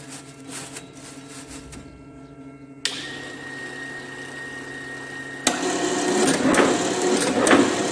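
An agarbatti incense stick making machine with an auto feeder running slowly, giving a steady mechanical whir and hum with faint rhythmic clicking. It stops briefly, then starts again louder and busier.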